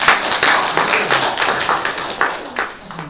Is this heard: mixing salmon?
no